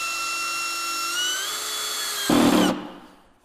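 A Festool cordless screwdriver drives a screw into a decking board, whining with a steady rising pitch, then a brief louder grinding burst as the screw seats before the motor stops and fades.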